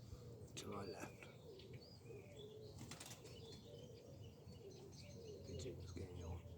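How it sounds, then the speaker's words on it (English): Pigeons flapping their wings and cooing around a city spot where they gather, faint and somewhat distant, with chirps and a person speaking over the background. "Pigeons getting on. Dirty pigeons."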